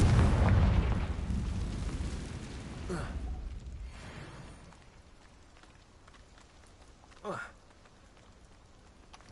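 Confringo fire spell explosion in the video game Hogwarts Legacy: a loud rumbling blast at the start that fades into a crackling, rain-like decay over several seconds, with a brief whooshing effect later.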